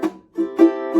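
Ukulele strummed in an island pattern with a percussive muted chuck, giving short bright chord bursts separated by brief choppy gaps, close and clear over about a second.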